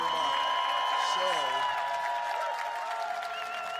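A warm, enthusiastic crowd applauds and cheers at a medieval combat final between Poland and England as the Polish team enters, a steady roar of clapping running under someone speaking over it.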